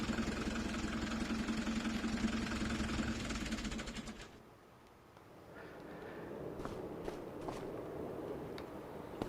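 A tractor engine idling in the video game Farming Simulator 25, a steady low mechanical rumble with a rhythmic knock that drops away midway, leaving quieter ambient game sounds and faint clicks.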